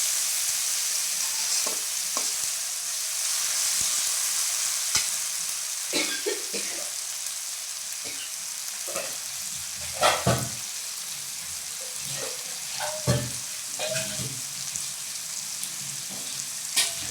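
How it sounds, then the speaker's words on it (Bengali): Prawns and browned onions fry in a pan, a continuous soft sizzle broken by repeated scraping stirs and clinks of the spatula, close and fairly quiet with no talk. "পেঁয়াজটা বাদামি কালার হয়ে গেছে ভাজা ভাজা করে।"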